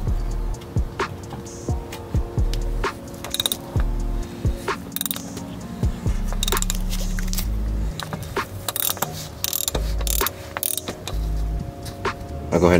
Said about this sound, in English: I'm gonna use this oil filter housing wrench that I got from Amazon to loosen the oil filter